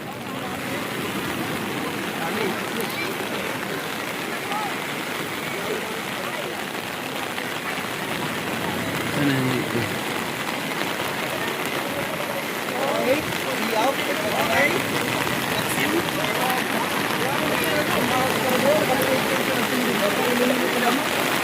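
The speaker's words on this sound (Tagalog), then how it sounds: "Lakas ng ulan guys." Steady heavy rain roars over a beach as a dense, continuous hiss, with people talking faintly underneath.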